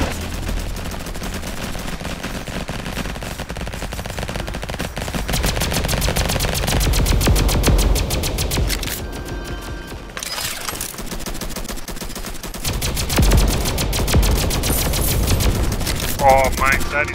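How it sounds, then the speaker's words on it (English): Rapid automatic raygun fire from the Roblox game Flag Wars, a dense, loud stream of shots that runs almost continuously, with brief pauses and several bursts. "That is a fun gun."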